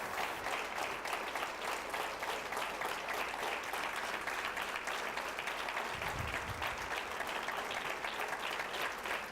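Continuous, dense audience applause following a lecture on chemical-free horticulture, a loud and even wash of many hands clapping that holds steady throughout with no talk.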